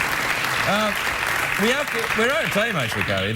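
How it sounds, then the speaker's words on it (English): Late-night talk show studio audience clapping steadily throughout, a broad wash of applause under a voice speaking over it. "The audience are now clapping in the hope that I'll go to a commercial break"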